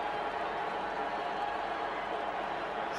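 Rugby stadium crowd cheering after a try is scored against Australia, a steady broad roar of many voices holding at an even level throughout, with no clear claps or individual shouts.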